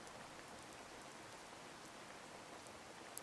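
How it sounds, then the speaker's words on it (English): Steady rain falls in the tropical island survival game Card Survival, a soft even hiss of drops with no break and no voices. "this rain will not last forever"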